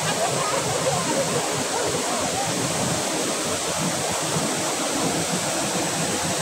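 Bolinao Falls waterfall roars with a steady, dense broadband rush of falling water that stays loud and unbroken throughout, with no voices heard over it.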